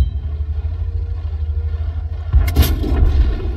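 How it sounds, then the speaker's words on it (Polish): Tank cannon shot from the video game Object 244, a low engine rumble followed by a single loud, heavy boom with a booming tail, fairly close. "Czasem się zdarzają właśnie takie strzały."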